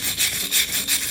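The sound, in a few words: nail comb scraping paint off a damp wall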